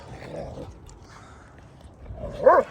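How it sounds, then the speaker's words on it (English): A deep-voiced dog barks and growls in play, with a low rumbling stretch at the start and a louder, sharper bark near the end, fairly close. "just because her bark is so deep, they think she's out to get them"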